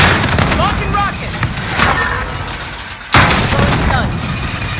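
In the shooter game Call of Duty: Modern Warfare, a rocket launches and heavy booms and gunfire pound continuously, with a sudden loud explosive hit late on and voices mixed into the din.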